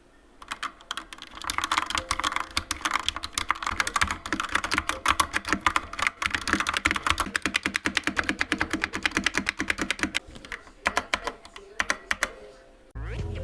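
Fast typing on a Defender Hawk GK-418 mechanical keyboard with Outemu Red switches, a steady stream of close, crisp key clacks with brief pauses and a few heavier strokes near the end.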